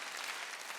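A church congregation at a Wednesday worship service claps hands in a brief burst of dense, steady applause, fairly faint and heard on its own.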